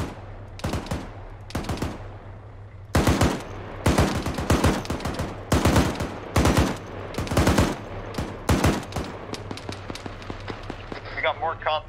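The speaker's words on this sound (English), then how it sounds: "Me neither, I'm just doing suppressing fire." Heavy .50 caliber machine gun laying down suppressing fire in a military shooter game, loud close bursts of rapid shots in repeated strings with short pauses, over a low engine hum.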